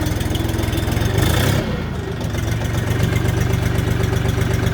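Bulat 244 tractor engine running, a loud, close diesel chug with a steady rapid knock, briefly shifting in tone midway before settling back into an even idle.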